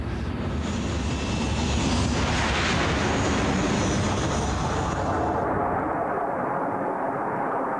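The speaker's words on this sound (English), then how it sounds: "everybody is aware of the F-117 stealth fighter" F-117 stealth fighter passing with a steady, loud broadband engine roar that holds for several seconds before the high hiss drops away, leaving a duller rumble; no voices.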